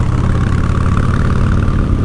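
Completely stock, factory-original motorcycle engine idling nearby, a steady low throbbing rumble holding even and loud throughout without any voices.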